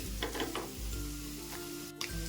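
Spices with garam masala, sesame seeds and coriander fry in a pan for a potato dish, giving a soft, continuous sizzle under a low steady hum, brief and fairly quiet.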